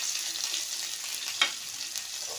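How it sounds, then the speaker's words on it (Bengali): Crushed garlic hits hot oil already holding green chili and panch phoron, giving a steady close sizzle with one brief pop midway. "এবার থেতো করা রসুনটা ফোড়ন দিলাম।"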